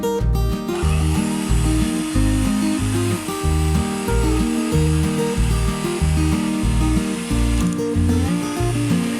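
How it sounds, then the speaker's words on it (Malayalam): A hand blender whips homemade fresh cream in a large bowl, its motor whirring loud and close in a rhythmic pulsing pattern as the blade churns, pausing briefly near the end. "ഞാൻ ഹാൻഡ് ബ്ലെൻഡർ ഉപയോഗിച്ചിട്ടാണ് ബീറ്റ് ചെയ്യാൻ പോണത്"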